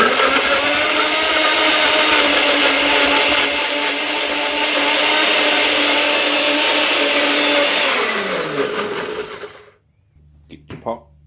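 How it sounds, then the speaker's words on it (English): A kitchen blender whirs loudly and steadily while onions are prepared for lasagna, then winds down and stops near the end, followed by a few faint clicks. "blender time."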